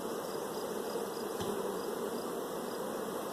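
Dense, steady buzzing of a great many bees in an open, crowded hive, a constant close drone with no pauses or talk.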